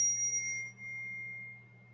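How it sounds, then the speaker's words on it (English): A small bell struck once, a clear bright ring that decays slowly and lingers over a low steady hum, alone and close. "like a little bell"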